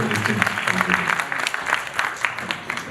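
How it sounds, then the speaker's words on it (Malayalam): An audience at a film audio launch applauds for the actor Suraj, with steady, dense clapping throughout and a voice briefly talking underneath. "ഒരിക്കലും കൂടി നല്ലൊരു കയ്യടി കൊടുക്കാം for സുരാജേട്ടൻ"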